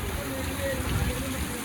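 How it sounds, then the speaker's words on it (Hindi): Heavy rain falls during a stop on a motorcycle ride from Rishikesh toward Badrinath near Narkota, a loud, steady broadband hiss filling the whole clip while someone speaks over it. "बहुत तेज़ बारिश चल रही है इस समय।"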